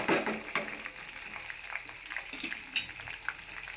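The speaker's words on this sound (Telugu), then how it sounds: "పచ్చిమిర్చి అవన్నీ వేగాయి, పల్లీలు అవన్నీ వేగాయి కదా." Green chillies and peanuts frying in oil in a pan, a soft continuous crackle and sizzle with occasional faint pops, close but quiet, no talking.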